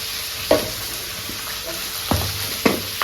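Cumin seeds frying in a pan for a Bengali home-cooked dish, a steady close sizzle with occasional stirring scrapes and thumps.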